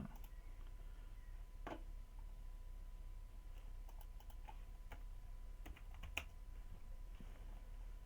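Faint, sparse clicking of computer keyboard keys during an online bughouse chess session, with irregular keystrokes over a low steady background hum.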